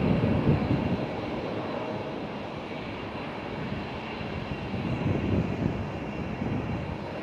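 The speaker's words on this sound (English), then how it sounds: "Delta Airlines A330 is on the runway, ready to go." Delta Airlines A330 airliner on the runway at Amsterdam Schiphol, a distant steady jet engine roar with broad rushing noise that swells slightly, heard alone from afar.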